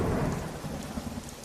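Steady rain mixed with a low rolling rumble of thunder, loudest at the start and slowly easing, a brief dense wash of sound with no voices.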